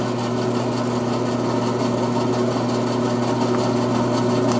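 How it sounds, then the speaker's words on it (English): A bandsaw runs steadily as it cuts spaced grooves in a wooden hub held in an indexing jig, a constant motor hum with a high whine, close and even throughout. "The jig allowed me to index the hub and cut grooves for the fins on the bandsaw."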